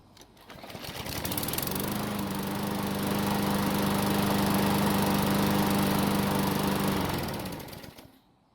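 A Murray lawn mower engine, hot after several minutes of running, starts and runs at a steady loud drone for about six seconds before cutting off, with no talk over it.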